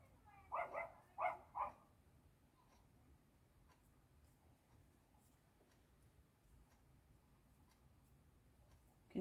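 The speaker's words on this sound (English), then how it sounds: "so you might hear her barking her head off in a minute" A dog gives three quick barks close together near the start, moderately loud, followed by quiet room tone with faint ticking and rustling.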